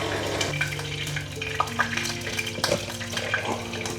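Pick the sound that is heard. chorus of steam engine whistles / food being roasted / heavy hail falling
food being roasted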